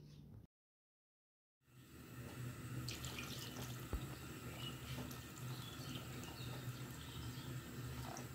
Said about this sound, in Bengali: 6 কাপ পরিমাণ পানি দিয়ে দিচ্ছি